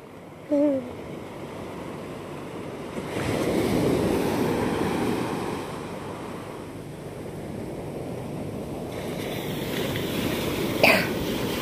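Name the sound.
large ocean waves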